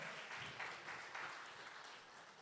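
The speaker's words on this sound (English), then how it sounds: "applause for the mothers here today." Applause from a church congregation honoring mothers at a Mother's Day service, a steady wash of clapping that holds for a couple of seconds and slowly tapers, moderately distant with no voices over it.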